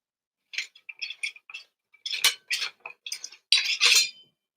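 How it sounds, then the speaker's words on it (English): Metal sword cane blade drawn out of its sheath, a run of bright scraping, clinking metallic bursts with short gaps, the longest and loudest scrape near the end, close and alone. "it's got a nice sound when you pull the thing out of the sheath"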